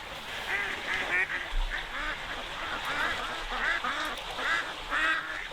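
Northern pintail ducks call repeatedly in short nasal bursts, a loose rhythmic chorus of quacks and chatter on open water.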